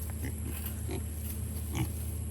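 Pigs on a farm grunting and oinking in a few short, low bursts over steady background noise, fairly close and moderately loud.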